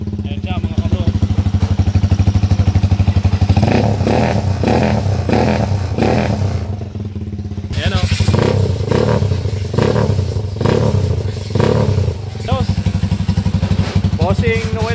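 A 200cc motorcycle engine with a four-speed transmission, freshly tuned after carburetor and spark plug adjustments, runs close by and revs in repeated loud bursts over a steady idle, with brief gaps and a voice talking at times.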